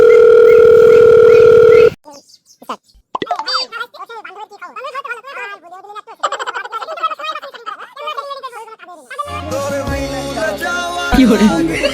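A steady telephone line tone plays loud and alone for about two seconds on an outgoing call, then cuts out as voices and background sounds take over.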